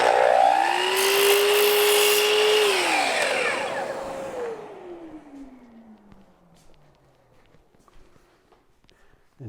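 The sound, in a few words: miter saw cutting a wooden lid liner at the miter station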